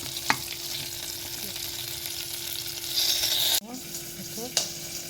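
Chilies fry in a pan with a continuous hissing sizzle, a few sharp taps from stirring and a louder burst of spattering near the end.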